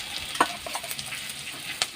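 Ginger, garlic and green chili paste sizzles in a pan of fried onions, a soft close frying hiss with a few sharp spatula scrapes and clicks, no talking.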